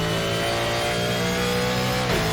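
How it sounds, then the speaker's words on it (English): A Ford GT1 race car engine roars continuously as it laps Mid-Ohio in a racing video game. The drone is loud and steady, with the pitch dipping slightly near the end. "Oh, I could listen to this engine sound all day."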